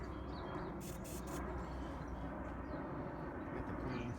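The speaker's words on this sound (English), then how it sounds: "Got the planes flying by." A steady, distant roar of airplanes passing overhead outdoors, continuous broadband rumble with faint bird calls around it and no clear pass-by peak.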